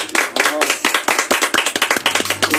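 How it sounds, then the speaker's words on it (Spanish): Loud audience clapping fills a studio during a Paraná television program, with dense, uneven handclaps running throughout and some voices mixed in. "Fuertes aplausos."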